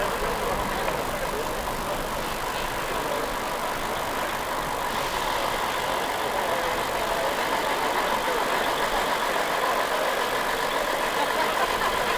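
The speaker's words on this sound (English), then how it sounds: "Another Scania tractor unit now. A vehicle that was new to Arthur Green Transport in 1981. It's a Scania LB11." A 1981 Scania LB11 tractor unit's engine runs steadily throughout at a moderate distance, a continuous mid-range rumble that blends with broadband road-run background noise and holds even in level without any speech.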